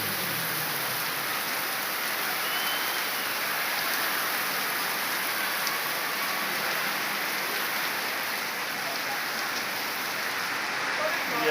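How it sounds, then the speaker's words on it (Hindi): Steady heavy rain pours continuously, a dense hiss of drops on surfaces close by, with no break throughout, heard from inside a rickshaw in a village. "काफ़ी बारिश आ रही है।"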